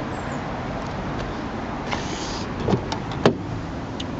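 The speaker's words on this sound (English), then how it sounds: "So you got electric windows all round." Electric windows on a car moving on their motors, a soft steady whir inside the cabin with a few faint clicks and a sharper thunk near the end, heard alone.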